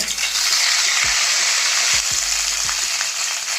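Green chilli paste, a sprig of curry leaves and cumin sizzling loudly in hot oil, a steady bright frying hiss throughout with a few low thuds as ingredients drop into the pan.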